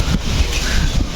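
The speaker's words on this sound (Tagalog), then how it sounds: "Lakas ng hangin na ba?" Strong wind gusts steadily across the microphone in a tropical storm, a loud, continuous rushing roar with no pauses.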